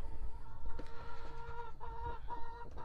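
Several backyard chickens cluck softly and steadily nearby, a low murmuring chorus with a few sharper calls.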